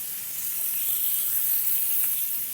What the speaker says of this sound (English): That sound you hear is like the sound of all the kimchi juices just starting to hit that hot pan.